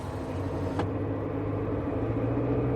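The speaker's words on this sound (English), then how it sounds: "The car's windows go up and the car speeds away." A car speeding away in the video game Bully makes a steady, low engine rumble that stays loud and even throughout, with one brief sharp click early on.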